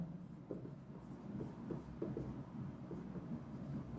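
Marker or chalk scratching across a classroom board during a chemistry lesson on the Arrhenius equation, a steady run of short rubbing strokes in a roomy space with a constant low background hum.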